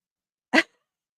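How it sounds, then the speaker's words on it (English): A dog gives one short, sharp bark indoors, close by, isolated and abrupt with silence before and after. "My dog."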